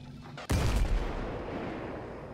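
A thumb cannon in Fallout fires with a sudden loud blast that booms out, followed by a long rumbling decay that fades slowly.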